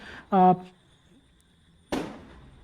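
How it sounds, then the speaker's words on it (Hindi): A firecracker goes off somewhere outside, a single sharp bang with a quick decaying tail after a short burst of voice, heard from indoors and fairly loud. "पटाखे कहीं बाहर से चल रहे हैं"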